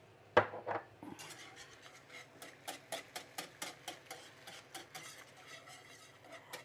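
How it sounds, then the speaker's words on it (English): A whisk clinks steadily against a pan as Dijon mustard and soy sauce are stirred into a sauce, giving a regular run of light metallic ticks close by, with no talking. "Whisk that in."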